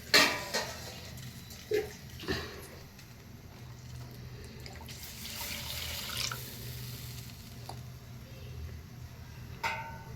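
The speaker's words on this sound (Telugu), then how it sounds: "టీ గ్లాస్ తోటి ఒక మూడు గ్లాసులు అయితే వాటర్ పోసుకుంటున్నాను" Water pours from a tea glass and splashes into a pan, with light clinks of metal and a few drips; fairly close and steady, no talking.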